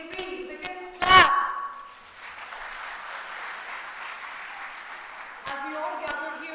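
An audience at a university event, the AU Ignite 2023 opening, breaks into steady applause that holds for several seconds at moderate distance, framed by a speaker's amplified voice before and after.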